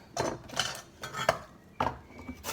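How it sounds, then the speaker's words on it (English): A kitchen knife trimming the end off a piece of ginger on a chopping board, several light, separate clicks and taps of the blade against the board, close and quiet with no talking. "I'll just take the end off my ginger there."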